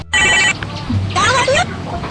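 A telephone rings with bright electronic trilling bursts, close and loud, one short burst then a longer one, with faint voices in the background of a Sundanese comedy sketch scene.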